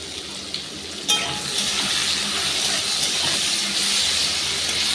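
Tomatoes sizzle in a pan for a Bengali fish curry with cauliflower and potato, giving a loud, steady frying hiss that jumps up after a soft start and keeps crackling without a break.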